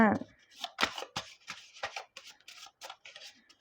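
Tarot cards are shuffled for a reading in short, dry riffling bursts close to the mic, repeated irregularly while someone speaks Thai over them.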